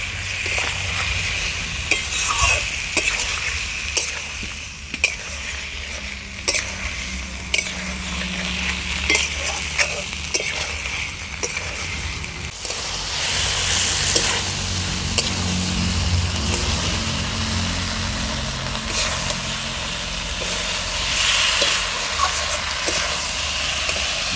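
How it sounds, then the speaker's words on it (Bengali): Raw banana curry with spice paste sautéed in a pan after a splash of water, steady sizzling and hissing with scraping stir strokes and pan knocks, close and continuous, growing louder near the middle. "আমি একটুখানি জল দিয়ে দিচ্ছি, জল দিয়ে আরও কিছুক্ষণ এটা আমি কষিয়ে নেব।"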